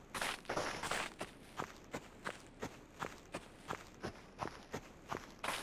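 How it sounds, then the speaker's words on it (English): Loud footsteps in the video game My Summer Car thud in a steady walking rhythm, about a dozen close, evenly spaced steps with no talk over them. "Loud footsteps."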